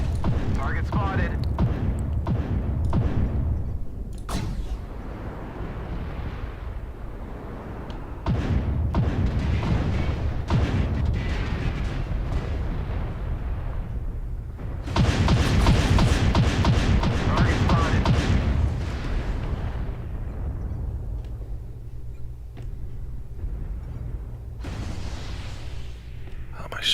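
Mech weapons firing in MechWarrior Online, heavy bursts of booming fire and thuds clustered in several loud stretches with quieter cockpit hum between, a voice speaking at times.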